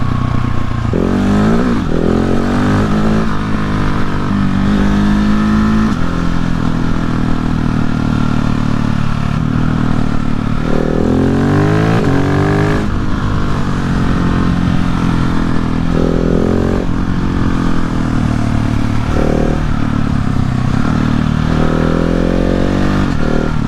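A 2020 Husqvarna 701 motorcycle rides along continuously, its single-cylinder engine loud and close, rising and falling through repeated gear changes and revs with wind rush, no talking.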